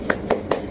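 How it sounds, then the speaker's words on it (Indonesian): Children clap a rhythmic tepuk semangat cheer in a third-grade classroom, three evenly spaced claps, close and clear, with no voices. "Kita tepuk semangat dulu, oke?"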